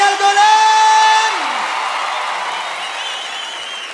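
A concert crowd at Caesarea greets the singer: a long, wavering whoop-like shout rings out first, then fades into a sustained, diffuse wash of distant cheering and clapping.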